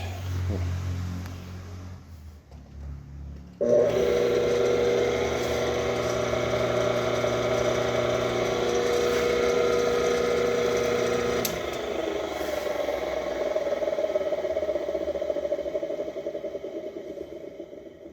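A homemade disc sander driven by a washing machine motor switches on after a quiet stretch and hums steadily with a strong tonal whine, then the pitch drops and the motor winds down as it slows.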